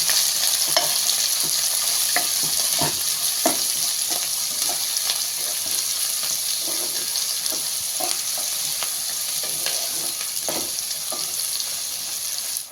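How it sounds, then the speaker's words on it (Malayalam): Shallots, onion, dried red chillies, green chillies and curry leaves fry in a pan, giving a steady, close sizzle with repeated scraping stirs throughout and no talking. "നല്ലോണം ഇളക്കി ഒന്ന് വാടി വരട്ടെ."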